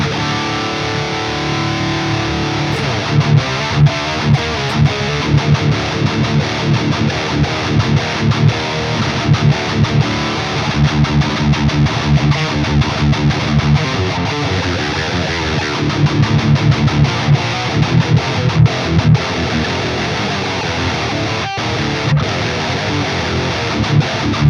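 Heavily distorted electric guitar played through the MLC SubZero-100 amp plugin with EQ, using the Fatality preset: dense, loud chugging riffs with sharp rhythmic accents running continuously, no voices.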